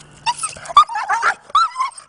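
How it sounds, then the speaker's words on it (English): A young pit bull mix dog at a farm animal refuge whimpers and yips in a few short, high, close bursts separated by brief pauses. "This dog named Brisket sure has a lot to say"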